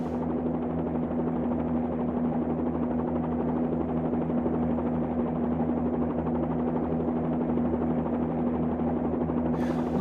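A Bell 47-2G helicopter hovers in the Flyinside flight simulator, giving a steady, continuous rotor and engine drone with a strong low hum. The sound stays constant and close throughout, with no talk.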